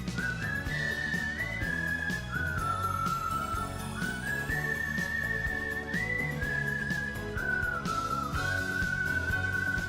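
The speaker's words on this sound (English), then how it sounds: "The whistling really sells it as being Western music." A clear whistled melody glides over a full instrumental backing, holding long notes with small slides, Western-style soundtrack from the video game Wild ARMs 3.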